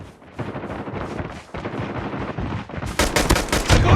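Rapid bursts of gunfire in the shooter game COD Mobile, repeated close, loud shots with no talking, rising into a denser volley near the end.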